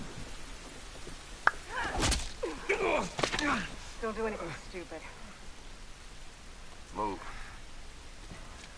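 Steady rain falling outdoors in The Last of Us, a constant hiss beneath tense spoken dialogue and a few sharp thuds.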